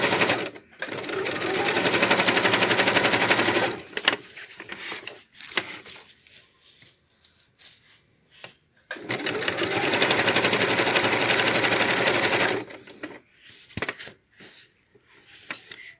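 Sewing machine stitching fabric for a student bag, two long bursts of rapid steady whirring separated by a pause with faint handling clicks and scattered short stitches.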